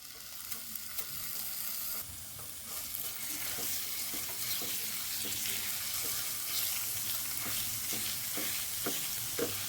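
Crushed garlic drops into melted ghee in a pan and fries with a steady, dense sizzle that holds for the whole stretch, broken by faint scrapes and taps of stirring.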